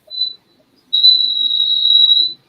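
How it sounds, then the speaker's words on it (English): A thin, piercing high-pitched whistle sounds on a call, first a short burst, then a longer steady tone lasting over a second before stopping, alone with no talking. "What the hell is that high-pitched whistle?"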